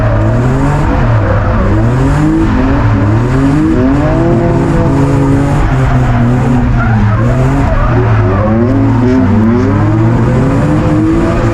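A V8-powered BMW E36 drifting, engine loud and close with continuous wavering tire squeal and rising and falling revs throughout, nearly unbroken.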